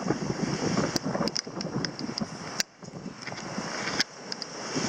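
Strong wind buffets the microphone aboard a sailboat on an ocean crossing in 20 to 25 knots of breeze, with a steady rushing roar, water noise beneath it and a few sharp gusts and knocks.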